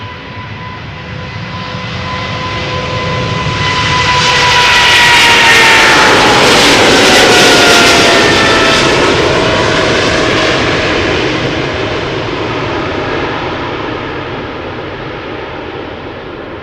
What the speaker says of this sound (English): there's a nice train, nice battery of airplanes coming this way, including a bizjet